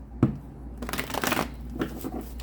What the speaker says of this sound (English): One more shuffle of Taurus.